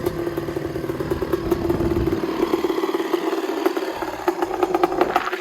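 A 250R engine idles after stopping on sand dunes, a close, loud, steady pulsing putter with rattly clatter that settles into an even beat.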